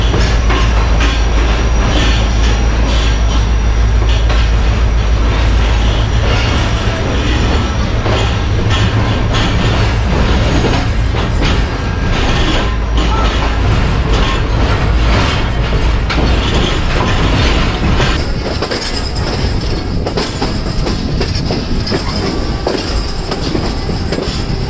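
The Shalimar Express passenger train brakes hard on its run near Lahore, a loud, steady roar of wheels and carriages with rhythmic rail clatter, and a thin metallic squeal rising toward the end.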